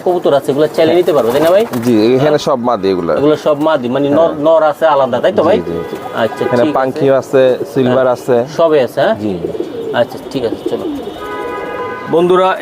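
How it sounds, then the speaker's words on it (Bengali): Male Giribaz racing pigeons coo in repeated low, throaty, rolling calls at close range, heard loudly and continuously under people talking nearby. "এগুলো সব নর কবুতর"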